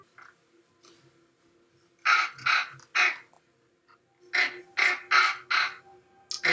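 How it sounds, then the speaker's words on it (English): A raven in a Vikings TV episode caws in harsh, loud bursts, one series of three calls followed by a longer run of four or five, close and clear over quiet background. "Ooh, Raven."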